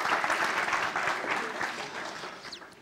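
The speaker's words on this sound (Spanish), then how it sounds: "Dale un aplauso al Señor" A church congregation applauds during a Spanish-language sermon, with brisk, dense clapping from many hands at moderate volume that gradually tapers toward the end.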